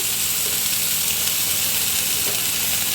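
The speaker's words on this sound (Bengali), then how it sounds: "উচ্ছে ভাজা কড়াতে নিম পাতাটা ভেজে নেব" Washed neem leaves fry in a wok used for frying bitter gourd, a constant close hiss and sizzle with a soft crackling texture, steady and alone for a few seconds.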